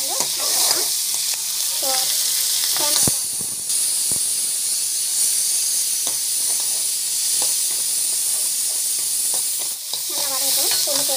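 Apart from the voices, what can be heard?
garlic and onion sautéing in a pan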